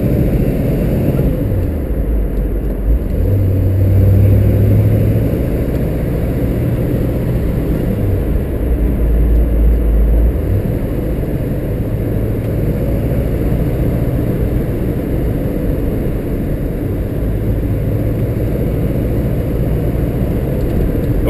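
Car accelerating with strong torque, a steady engine drone rising in pitch through the gears at moderate volume, no talk over it.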